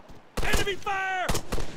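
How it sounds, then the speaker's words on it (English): Gunfire in the video game Arma 3: sharp, close shots crack out in a couple of quick bursts, mixed with a raised, shouting voice. "Enemy fire!"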